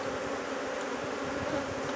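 Honey bees buzz steadily inside a hive box, a dense continuous hum that stays close and even throughout, with no voices.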